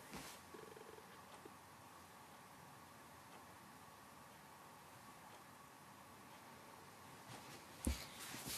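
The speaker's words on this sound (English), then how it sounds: "There's purring and snuggliness going on" A cat purrs softly and steadily in a quiet indoor room, a faint continuous low rumble with a brief rustle and tap near the end.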